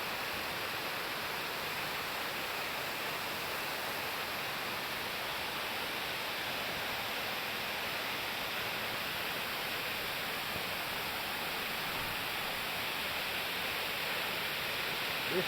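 Waterfall at a long-closed, forgotten bathing place, a steady, dense roar of falling water that stays constant and loud throughout, with no voices.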